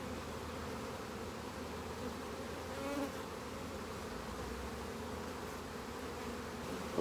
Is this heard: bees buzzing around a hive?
yes